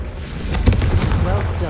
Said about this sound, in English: Confringo! Have a go at those candelabras.